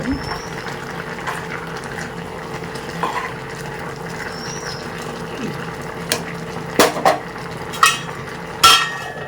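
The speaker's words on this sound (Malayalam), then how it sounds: "അപ്പോൾ എല്ലാ കഷ്ണങ്ങളും നന്നായിട്ട് വെന്ത് കിട്ടാനായിട്ട് നമ്മളിതൊന്ന് നന്നായിട്ട് ഇളക്കി കൊടുക്കണം" Jackfruit aviyal vegetables stirred in a pot, soft scraping and clinking of a spoon against the pot, a few sharper knocks near the end, with a voice talking over parts of it.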